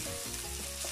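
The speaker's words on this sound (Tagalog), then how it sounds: "Igisin na po natin ng ating sibuyas" Sliced onions sauté in hot oil for beef pares, giving a close, steady sizzle with a faint hum underneath and no talking.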